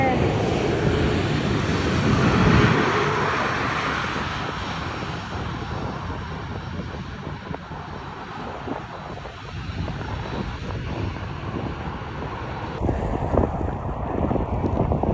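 A Canadian North airliner at Calgary airport passes with a loud, steady engine roar and rushing wind noise, swelling early and easing slightly before a brief surge near the end.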